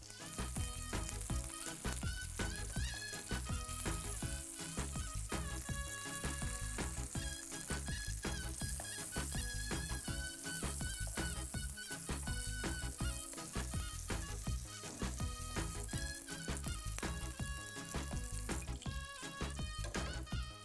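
Chicken malai kofta patties frying in a pan over medium-high heat, a dense, steady crackling sizzle that runs continuously at close range, with no voices.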